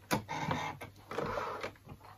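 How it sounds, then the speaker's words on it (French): Sewing machine stitching along the fold of fabric bias binding on a small Halloween pennant, with short close bursts of rapid mechanical stitching separated by brief pauses. "je vais déjà en coudre 2 et je viens coudre sur la pliure là ici du biais."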